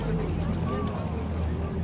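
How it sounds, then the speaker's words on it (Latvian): Speedboats and other boats churn across open water in a steady low motor rumble with wind noise, while a voice speaks over the engines. "Rekšās tā visas laivas ir. Speedboti."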